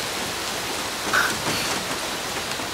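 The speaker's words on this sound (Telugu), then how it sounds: "మంచి వర్షం." Heavy rain pours down in a dense, even hiss over the ground, steady and close throughout with no speech.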